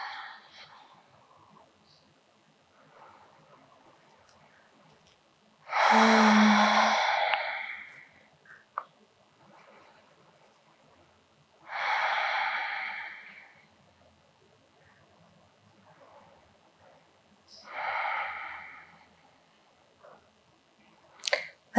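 Deep breathing during a beginner yoga stretch, lying back on a mat, with three long airy breaths spaced several seconds apart, the first the loudest and the rest gradually softer, close and without talking.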